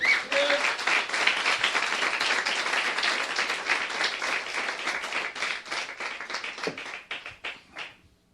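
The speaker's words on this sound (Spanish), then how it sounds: "dale un aplauso al Señor" Church congregation clapping in praise to the Lord during a service, a dense round of applause that carries on steadily, then breaks into scattered individual claps before stopping.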